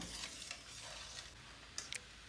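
A jaggery mixture for arrowroot pudding thickening in a pan as it is stirred, giving a faint, steady soft bubbling and sizzle with a couple of light clicks of the spoon near the end.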